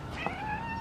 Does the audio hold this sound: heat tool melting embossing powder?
no